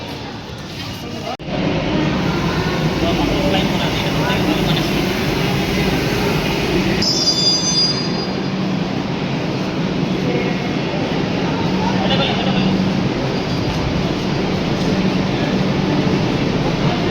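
A Kolkata Metro train ride, with a steady rumble of the carriage and air conditioning that starts after a sharp jolt and continues throughout, joined midway by a brief high-pitched squeal, with voices faintly present.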